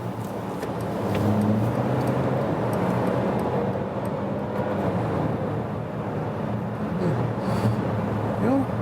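Mercedes compact SUV with a 211 hp engine accelerating, its steady engine note and road rumble filling the cabin at a constant, fairly loud level throughout.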